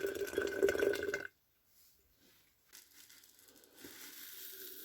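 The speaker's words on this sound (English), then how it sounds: "So a bit of boiling water in a sort of heat resistant glass." Boiling water is poured into a heat-resistant glass while a die-cast Corgi Ford Capri 3.0S model is being stripped of paint with caustic soda. A brief, loud rushing pour lasts about a second, then gives way to near silence with faint trickles.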